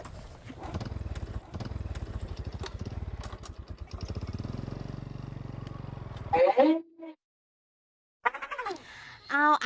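A small motorcycle engine idles and putters with a rapid, even pulsing throb for several seconds, fairly close, then cuts off abruptly as people begin talking.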